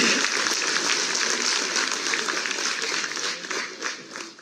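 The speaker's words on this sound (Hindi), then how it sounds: "एक बार सभी लोग जोरदार तालियों से स्वागत करें।" Steady, dense applause from a crowd at a welcome ceremony in Dehradun for newly selected municipal staff fills the space, loud and continuous without pause.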